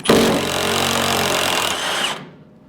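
A power tool (likely an impact wrench) spins hard against old original cab mount bolts on a Chevy COE being torn down, one loud sustained whirring burst of about two seconds that then cuts off abruptly into silence.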